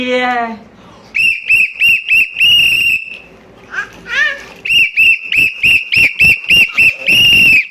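Sharp shrill whistle blown in a rapid run of short bursts, then after a pause another quick series of toots, loud and close, with a voice briefly between.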